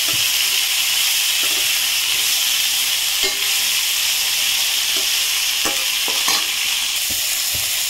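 Broad beans for avarakkai poriyal sautéed in a hot pan, a loud steady sizzle broken by repeated scraping stirs of the spatula, most frequent toward the end, with no talking.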